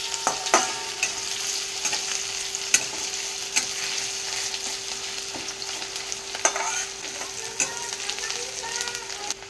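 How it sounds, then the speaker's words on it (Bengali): Onion frying in a pan gives a steady, soft sizzle, with a low hum underneath. Sharp clicks and scrapes from stirring come every second or so, close by and without talk. "এখন আমার পেঁয়াজটা ভাজা ভাজা হয়ে এসছে"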